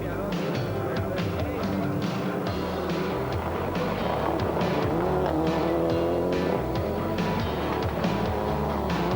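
Rally cars at the 1995 Rally of Portugal, a Toyota against a Ford Escort Cosworth, roar loudly and continuously with revving engines and tire noise, while a commentator talks over the sound.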